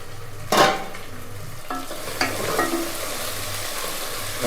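Vegetable kuska with freshly added coriander and mint cooks in a pan, a soft steady sizzle broken by a few sharp scrapes and clatters of stirring and a lid, close and moderately loud with no talk.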